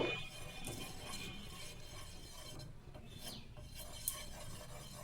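Oil brushed across a pan for a semolina and carrot stuffed snack, a soft steady rasping and rubbing that continues close by with small clinks, no voices over it.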